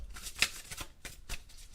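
Tarot cards being shuffled in a few quick riffling bursts, close and fairly quiet, with no talking.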